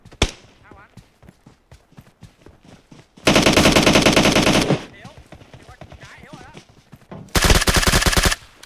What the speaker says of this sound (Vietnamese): Xa xa bắn kìa.